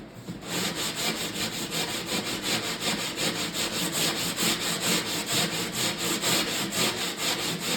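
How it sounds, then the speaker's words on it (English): Sandpaper rubbed back and forth along the laminated edges of a Wizard of Wor arcade cabinet being restored, a steady close rasping scrape in quick regular strokes that continues without pause and without talk. "I'm gonna go around and sand these edges"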